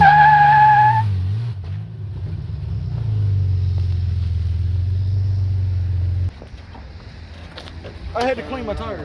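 Tires of a 1988 Chevy S10 with a 5-speed spinning and skidding: a loud, steady low roar of wheelspin that holds for several seconds, then cuts off abruptly. Brief voices come at the start and again near the end.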